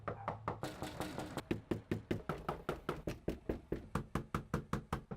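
Firm knuckle knocks on a door, a fast even series of about twenty sharp raps, close and loud, with no voices.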